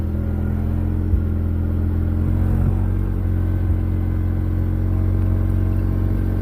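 A farm vehicle drives over rough ground, its engine droning steadily and loudly up close, with a few dull knocks and jolts from the uneven terrain breaking through the constant rumble.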